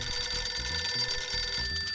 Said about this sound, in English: I get a call on my home phone